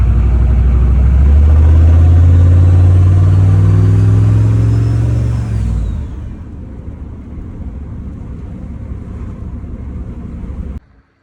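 A red squarebody pickup truck with freshly fixed brakes drives loudly, its engine droning and shifting pitch under acceleration before easing off and settling into a quieter steady run, then cutting out abruptly at the end.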